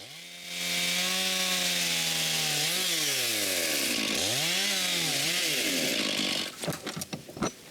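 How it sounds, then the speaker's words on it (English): A chainsaw cuts a fallen tree into sections outdoors in April, its engine snarling loud and steady with revving dips and swells, then cutting out near the end, leaving a few scattered knocks and rustles. "I brought my trusty chainsaw and we start by cutting the branches of the fallen tree."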